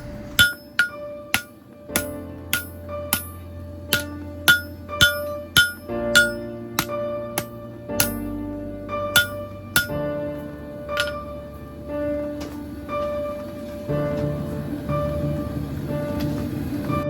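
Rhythmic hammer blows ring out on a steel chef knife blade being forged, a steady series of sharp metallic strikes spaced about half a second apart, close and loud, with a faint ringing tone between hits.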